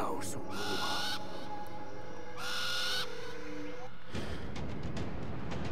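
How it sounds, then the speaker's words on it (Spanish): An owl hoots in the Far Cry Primal video game, its low calls sounding beneath louder bursts of in-game noise and rustling, with no talk over it. "Sí, es un búho, es un búho"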